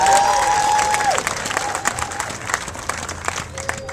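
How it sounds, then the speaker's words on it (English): A crowd at the Sac Steps Forward volunteer launch event claps and cheers for the volunteers, the applause fading gradually into scattered claps. "Let's give all of our volunteers a round of"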